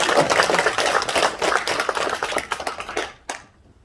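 Applause from an audience at a Confucian school's elders' banquet ceremony, held at Jinju Hyanggyo's Myeongnyundang hall: dense, steady clapping for about three seconds, then a few scattered claps before it stops.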